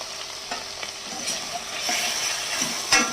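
A ground paste of green chilli and cumin fries in a pan for a rohu fish dish, hissing steadily while a spoon scrapes and stirs it in several distinct strokes.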